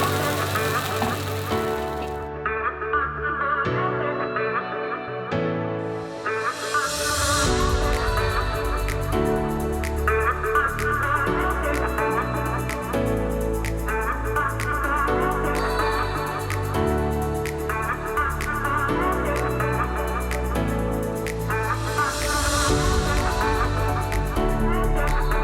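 Vietnamese banh xeo batter sizzles in a hot pan, a steady hiss that swells once the batter goes in after a few seconds and continues under rhythmic background music.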